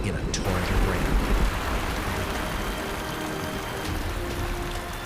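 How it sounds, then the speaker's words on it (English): Heavy, torrential rain from a short, intense storm over the northern Serengeti grasslands pours in a dense, steady roar with a low rumbling undertone, loud and continuous throughout. "Little by little, they grow into massive thunderclouds until they burst in a torrent of rain."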